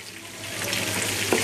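Beef keema frying in half a cup of oil in a pan, a dense close sizzle that swells slightly with a brief stir near the end, alone without speech.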